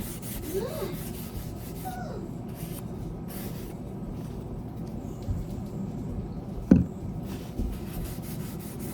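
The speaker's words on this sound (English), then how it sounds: "And just rub the oil in it." A cloth rubs mineral oil into a sanded black walnut wooden spoon, giving a soft continuous swishing at close range. One brief knock stands out near the end, and there is no talk.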